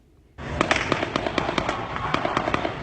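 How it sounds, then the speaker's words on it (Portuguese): Gunfire exchange in Cidade de Deus, Rio: a rapid series of sharp cracking shots begins suddenly and keeps going over a loud, noisy background, moderately distant. "Moradores da Cidade de Deus, na Zona Oeste, enfrentaram mais uma manhã com trocas de tiros"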